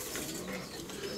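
Racing pigeons coo softly in a loft, a brief, steady murmur against dense background noise.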